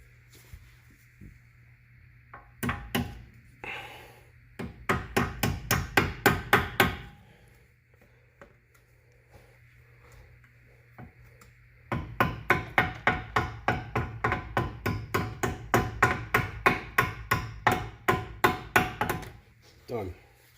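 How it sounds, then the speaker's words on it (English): Two runs of steady, rhythmic hammer taps on dowels in a wheel hub of a 2007 Mercedes-Benz CLK550 AMG, close by, separated by a short pause, with a faint steady hum underneath. "Now we're just going to take our hammer and tap the dowels the rest of the way in."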